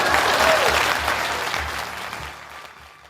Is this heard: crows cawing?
no